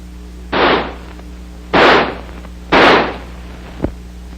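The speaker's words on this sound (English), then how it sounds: "By closing the bolt and turning the selector lever to semi, the rifle will fire semi-automatically." An M16 rifle fires semi-automatically: three separate sharp, loud shots spaced about a second apart, each with a short decaying tail, followed by a small metallic click.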